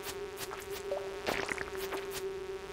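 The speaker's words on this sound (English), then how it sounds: "Those bee things are like super annoying. And loud. They're also very loud." Bee-like flying monsters in the video game Stardew Valley give off a steady, droning insect buzz that holds for the whole stretch, with faint clicks and thuds from the game over it.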